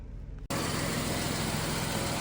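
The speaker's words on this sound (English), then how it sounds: "This engine works flawlessly, not shaking, it's not burning any oil, not smoking anything." An old car engine runs at a steady idle, close and continuous, cutting in abruptly after a brief, quieter moment.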